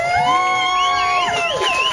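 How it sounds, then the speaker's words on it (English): Audience at the Elbow Room bar venue cheering and whooping, a loud sustained crowd roar with high shouts and whistles running through the whole stretch. "Let's hear a round of applause for the Elbow Room."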